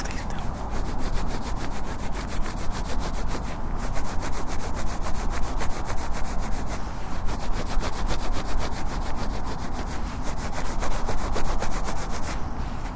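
Close, steady rubbing of skin, as in a role-play of warming someone's cheeks on a wintry outdoor woodland setting, runs as continuous rapid strokes for the whole stretch, with no talking.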